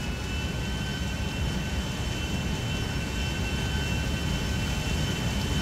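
Steady roar of a jet airliner's engine in GTA 5, running as a dense, continuous whine and rumble throughout, loud and close with no voices.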